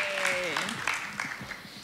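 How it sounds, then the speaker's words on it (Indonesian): Applause from the audience at a relationship talk show, a continuous rattle of clapping with a voice speaking over it and a few sharper claps standing out. "tepuk tangan dulu, teman-teman"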